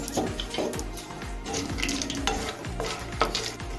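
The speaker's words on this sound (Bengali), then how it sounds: "এখন আমি বাদামগুলো একটু রোস্ট করে নেব" Peanuts roasting in white oil in a non-stick wok, a steady sizzle with repeated scraping and stirring strokes against the pan, close and fairly loud, no talking.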